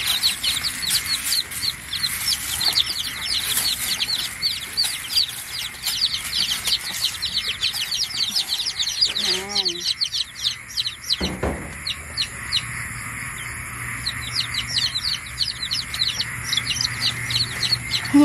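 Newly hatched Basilan and Rhode Island chicks from an incubator keep up a dense, continuous chorus of high peeping and chirping, close by and fairly loud, with no voices.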